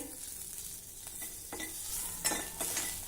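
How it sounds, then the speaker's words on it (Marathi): Quiet sizzling of green chilies roasting in oil with soft stirring scrapes and a few brief clinks of a utensil against the pan. "ही मिरची देखील आपल्याला मस्त भाजायची आहे"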